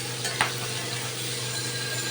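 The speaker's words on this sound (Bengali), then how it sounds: "আলুটা দেখো ভাজা হয়ে গেছে।" Potatoes frying in a pan while being stirred, a steady close sizzle with a low hum and a soft scrape of a utensil early on.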